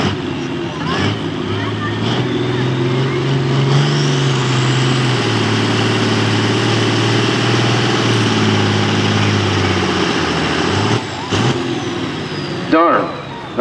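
A pulling tractor at the Boonsboro tractor pull runs its engine in a loud sustained drone that rises and holds, with an announcer talking over it and brief clanks near the end.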